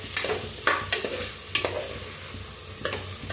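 Spices with half a spoon of turmeric roasting in a pan for masale bhaat, with several sharp scraping strokes of a spoon stirring over a soft sizzle, close by and without speech.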